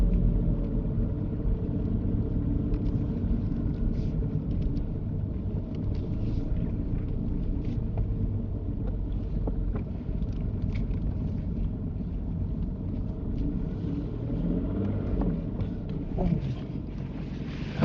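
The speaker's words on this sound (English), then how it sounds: "drive the car forward into a bay of your choice" A learner's car rolls forward into a parking bay during a mock driving test, a low, steady engine and road rumble with faint wind noise and no talking.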